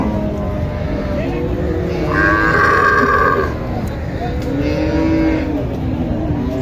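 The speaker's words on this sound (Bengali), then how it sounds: "দর্শক আমার সামনে একটি শাহিওয়াল বাছুর দেখছেন" Sahiwal calf at a crowded Bangladeshi cattle market, giving a couple of drawn-out moos amid a constant background murmur of the market crowd and nearby talk.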